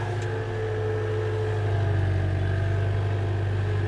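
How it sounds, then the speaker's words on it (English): A diesel engine runs steadily at fairly low revs, a constant deep rumble with a continuous hum that holds even throughout, close and loud with no voices. "So we're doing this on fairly low revs."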